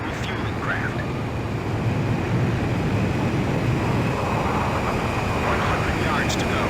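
Steady, loud jet aircraft engine roar in the Ace Combat 5 video game as a fighter closes on a refueling plane, a continuous broadband drone filling the whole stretch, with faint radio chatter in the background.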